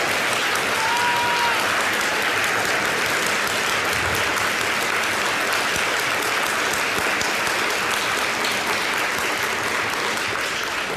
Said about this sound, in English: please join me in a big round of applause for Chris and all of that he's done.